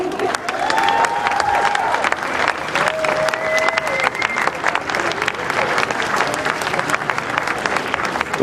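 Crowd applause at a women's cycling podium ceremony on the Place de la Concorde in Paris, a steady dense clapping roar throughout, with an announcer's voice and whistle-like tones heard over it.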